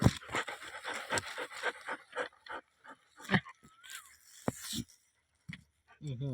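A dog pants hard after running, a quick run of close, rhythmic breathy huffs that then thins to scattered breaths, with a voice and light rustling near the end.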